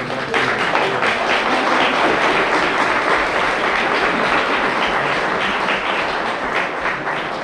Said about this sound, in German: Erstmal danke für Ihren Applaus.